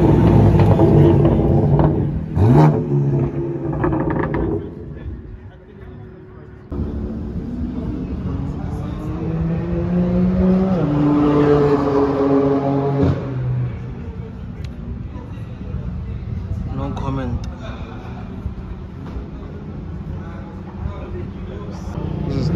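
BMW M4 car revving on a skidpan at Zwartkops, engine rising and falling in loud bursts near the listener, with people talking over it.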